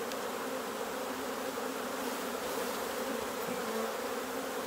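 Honey bees buzz steadily in an open hive while a starter box is reworked into a queen-right finisher, a dense continuous drone heard close and unbroken throughout, with no talking.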